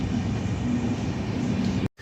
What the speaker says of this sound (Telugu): ఇదే మనం వచ్చిన train, Pune express, Pune to Kanyakumari.